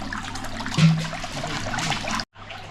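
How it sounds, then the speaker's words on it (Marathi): Water draining out of a home fish tank during cleaning, a continuous close trickling and gurgling flow that cuts off briefly near the end. "आता एकदा अजून एक वेळ आता हे पाणी सर्व काढणार, नंतर पाणी ॲड करणार दुसरं."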